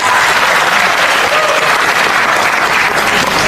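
Loud, dense audience applause fills the whole stretch as a continuous wash of clapping at close range, with no voice on top.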